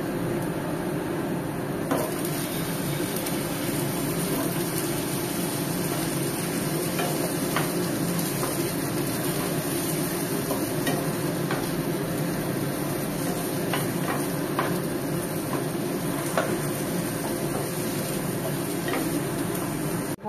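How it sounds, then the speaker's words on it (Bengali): Potatoes fry in a pan with a continuous, even sizzle and crackle that runs unbroken, with no voices. "এবার আমি আলুগুলোকেও লাল লাল করে ভেজে নেব।"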